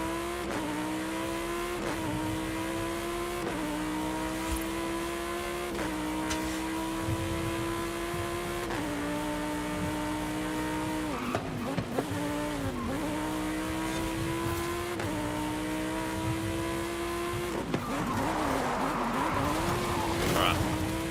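Race car engine in a video game holds a steady droning note, shifting between gears and dipping in pitch, then gives a brief tire squeal and skid from a handbrake turn near the end.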